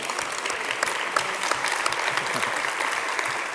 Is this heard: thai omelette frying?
no